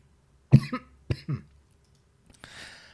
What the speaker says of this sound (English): I thought I would get through this whole video without coughing